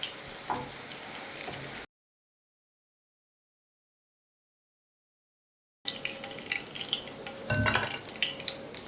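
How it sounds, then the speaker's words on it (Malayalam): Long beans frying in oil in a pan for a prawn and vegetable stir fry, a steady close sizzle with scattered utensil clinks, cut off by a long silent gap before the frying resumes with a sharp scrape. "ഇനി അതും കൂടി വറുത്ത് കോരാം കേട്ടോ."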